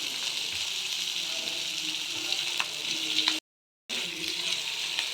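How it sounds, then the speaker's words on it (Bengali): Capsicum and soybean chunks sauté in a pan with a soft, steady sizzle and faint stirring scrapes, broken by a brief moment of silence before the frying resumes. "এগুলো একটু সটে করে নেব। দিয়ে দেবো ক্যাপসিকাম"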